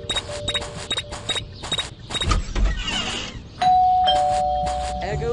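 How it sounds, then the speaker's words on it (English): Doorbell chiming repeatedly in the video game Scary Teacher 3D, a rapid series of bright electronic dings near and loud, followed by footsteps and a sustained tone. "There goes that stupid bell again."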